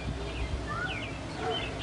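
Birds chirp outside on a gloomy, rainy day, with a few short, thin calls coming from a distance over a steady, noisy background.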